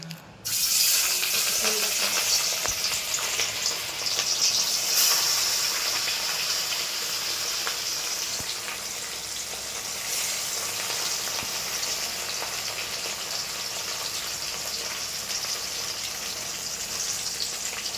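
Katla fish drops into hot oil with a sudden loud sizzle, and the steady hissing fry holds close and even, easing off slightly in the second half.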